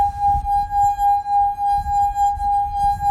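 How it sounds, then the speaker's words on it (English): Steady singing tone from a wet fingertip circling the rim of a water-filled glass, a clear sustained ring that swells rhythmically with each pass of the finger, heard up close and alone. "I pressed down and rubbed my finger all the way around the rim."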